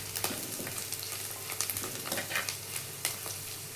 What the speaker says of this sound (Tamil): இதோடு கூட நல்ல வெங்காயம் கலர் மாறிடுச்சு, எல்லாமே பொரிஞ்சிருச்சு.